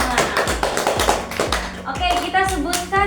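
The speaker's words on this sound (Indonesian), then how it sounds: "tepuk tangan untuk kita semua" A small group claps in a classroom during a teaching session, a handful of sharp, uneven hand claps in a loose rhythm with voices chattering alongside.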